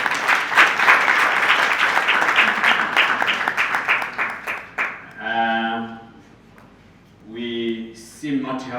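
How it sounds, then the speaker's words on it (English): Audience clapping rings out for about five seconds to welcome a broadcasting commission guest at a film festival session on intellectual property, then fades as a voice speaks over the room. "Let's welcome her with a clap."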